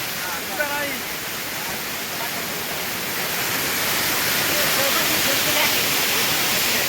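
A steady, broad roar of a waterfall at Tamhini Ghat fills the scene, rising slightly in loudness, with faint voices underneath.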